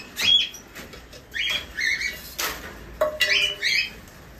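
Sun conures, cockatiels and lovebirds in a breeding aviary, giving sharp, repeated squawks and chirps in bursts, with brief wing flutters between calls and no talking.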